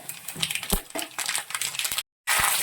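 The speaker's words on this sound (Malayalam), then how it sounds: "എണ്ണ ചൂടായിട്ടുണ്ട് നമുക്ക് കടുക് ഇട്ടിട്ടുണ്ട്" Mustard seeds sputter and pop in hot oil while tempering for beetroot pachadi, a dense continuous crackle with sharper pops, close and fairly loud, briefly cutting out before resuming.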